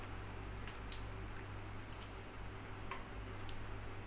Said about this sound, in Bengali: বড়াগুলোকে লো ফ্লেমে রেখে দিতে হবে যতক্ষণ না নিচের দিকটা একটু ভালো করে ভাজা হচ্ছে।